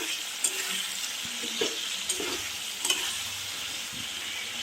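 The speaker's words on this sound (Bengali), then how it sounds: "এরপরে আলুগুলো কষতে থাকুন।" Potatoes stir-fried with chili powder and coriander powder for a cabbage curry, a continuous hiss of frying broken by several sharp scrapes and knocks of a spatula against the pan, with no talking.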